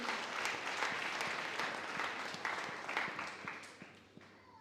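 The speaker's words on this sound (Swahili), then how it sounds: "Mpigie makofi." A church congregation at a Nyamataro PAG Sunday service claps together. The applause is soft and somewhat distant, a steady patter of many hands that fades toward the end.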